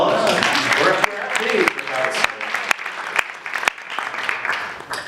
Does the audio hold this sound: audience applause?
yes